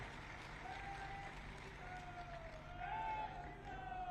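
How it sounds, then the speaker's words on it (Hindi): An audience applauds in welcome as the BJP state president is introduced at a state-level gathering of urban local body representatives with the Chief Minister. The clapping is a sustained, dense wash throughout, with a faint tonal hum underneath. "जोरदार तालियों से स्वागत करिए"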